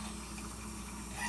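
Tap water runs steadily into a measuring cup for bread dough, a continuous close rushing and filling sound with no talk.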